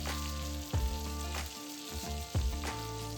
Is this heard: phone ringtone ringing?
no